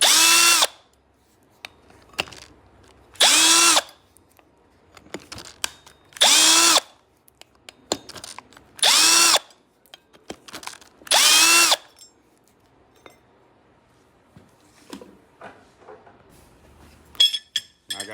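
Power drill spinning off the brake rotor bolts on a Segway GT2 scooter's rear wheel, about five loud close whirring bursts of a second each, with metallic clinks and handling noise between them.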